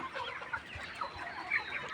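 Hens cluck softly and continuously at close range, with a few higher squawks breaking through the steady farmyard murmur; one hen has an eye infection with constant watering.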